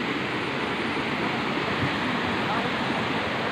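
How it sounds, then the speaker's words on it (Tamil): A forest waterfall beside a Shiva temple, some ten kilometres off the highway, gives a steady, close rushing roar of falling water that stays even from start to finish. "பாருங்களா தண்ணி ஊற்றுது தண்ணி எங்கேருந்து தெரியல கீழே வந்து நீர்வீழ்ச்சி கீழே நீர்வீழ்ச்சி பாருங்கள்"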